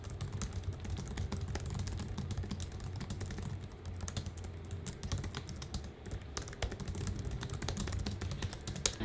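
Rapid, light clicking of keys typed continuously on a slim Bluetooth keyboard, close and steady with no voices.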